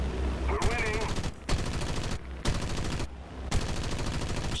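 A bomber's defensive machine guns in the War Thunder video game, a TB-3M-17-32, firing in loud, dense bursts split by short pauses, with engine drone underneath and a brief voice at the start.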